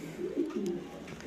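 Pigeons in a loft give a short, low, rolling coo, close and moderately loud, over faint background noise.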